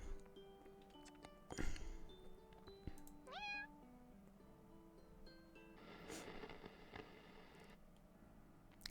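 In the game Purrfect Date, a cat meows several times, one loud near meow early and a rising drawn-out cry midway, amid quiet soft background clinks.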